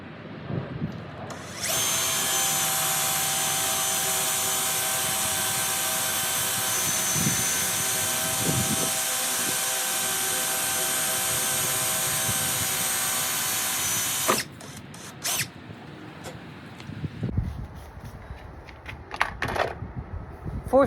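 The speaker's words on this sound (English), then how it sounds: "Let's go drill the other hole." A drill bores a hole with a Forstner bit for a French door, a loud steady high whine running for about twelve seconds before cutting off, followed by scattered clatter and handling noises.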